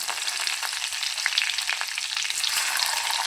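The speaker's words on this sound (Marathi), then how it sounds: "हे पण मस्त फ्राय करून घेऊया बारीक गॅसवरती." Cumin, mustard seeds, chopped coriander and tomato fry in oil over a low flame, giving a steady, dense sizzle heard up close without any talk.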